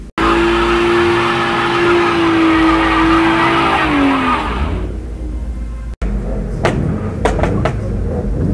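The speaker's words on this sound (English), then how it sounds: "Them throaty V8s there, boy." Throaty V8 cars at a car meet rev loudly nearby, a sustained engine roar with a falling whine that cuts off, followed by quieter idling and a few sharp bursts.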